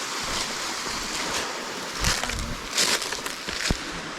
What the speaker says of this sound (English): Endless cascades before the waterfall.